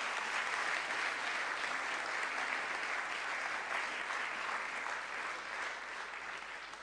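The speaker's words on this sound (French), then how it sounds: "Est-ce que vous voulez bien l'applaudir" Sustained applause from a live morning audience, steady and dense clapping throughout, tapering slightly at the end, with no voices over it.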